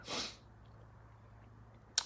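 A single short, sharp human sneeze bursts out at the start, followed by near silence and a small click at the end.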